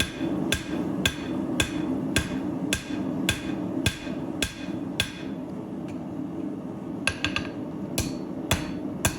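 Hammer blows forging the heel of a twist Damascus steel Bowie knife blade: sharp metallic strikes in a steady rhythm, roughly a dozen, with a short pause midway, over a continuous forge roar.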